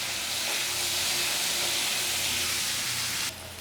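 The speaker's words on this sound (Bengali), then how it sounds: "অল্প একটু লবণ আর অল্প একটু হলুদ গুঁড়ো দিয়ে এটাকে মিডিয়াম আঁচে রেখে একটু ভেজে নেব।" Potato and eggplant pieces frying with salt and turmeric on medium heat, giving a steady, close hissing sizzle that drops off abruptly near the end.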